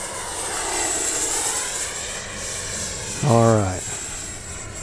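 An Arrows RC F-15 64mm twin-jet model flying a pass, with a steady whooshing ducted-fan whine and a faint high tone, and someone speaking briefly near the end.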